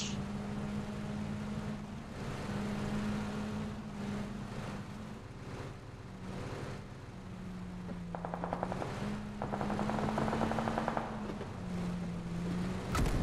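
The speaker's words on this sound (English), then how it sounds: "Like some gunshots from up here." Rapid bursts of gunfire in PUBG crackle over a steady truck engine drone, with several quick volleys clustered together near the end.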